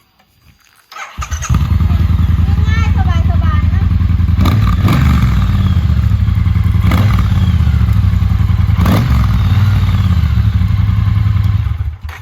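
A Triumph Bobber Black 2018 on its stock exhaust starts after a moment of quiet and settles into a loud, deep, steady idle with a few sharp blips, close by, while a person briefly speaks over it.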